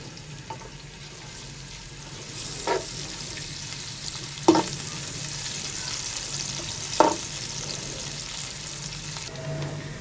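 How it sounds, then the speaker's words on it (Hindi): Long-sliced onions frying in a few spoons of oil for mutton pulao, a steady close sizzle with periodic scrapes and clacks of a stirring spoon against the pot, no talk. "सबसे पहले हम प्याज फ्राई करेंगे।"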